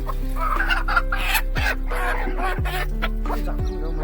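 A desi village hen clucks repeatedly beside her newly hatched chicks, low rhythmic clucks recurring every second or so, close and clear over a steady background hum, with faint high peeps from the chicks.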